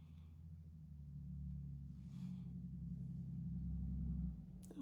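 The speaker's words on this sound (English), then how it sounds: "Loud truck." A lawn-care truck passes outside as a low engine rumble that swells gradually and holds for several seconds, then drops away abruptly near the end, heard faintly at a distance.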